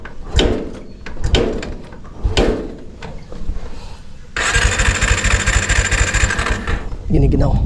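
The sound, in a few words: motorcycle engine warming up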